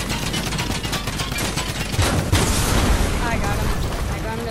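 A loud burst of explosive booming crashes in, rumbling and crackling for several seconds in a dense wash of noise.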